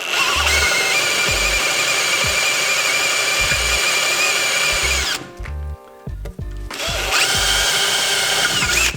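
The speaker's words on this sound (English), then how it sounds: "Just gonna drill that out to 1/4 inch." A power drill whines steadily through aluminum plate, making a 1/4 inch hole, loud and close, pausing briefly midway before grinding on again.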